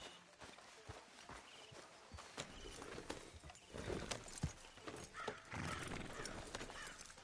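Horse hooves clip-clopping in a video game, a steady walking rhythm of soft close hoofbeats with occasional snorts, over low ambient background.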